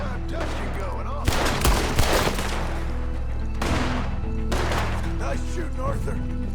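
Gunfire in Red Dead Redemption 2, several loud close blasts in quick bursts spaced a couple of seconds apart, with game character voices talking between and over the shots.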